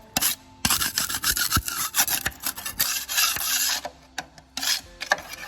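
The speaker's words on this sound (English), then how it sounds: "Just gonna scrape all of this built up stuff off." A tool scrapes caked-on debris off the bolts of a corn head, a close, harsh rasping in quick repeated strokes with short pauses, loud and alone.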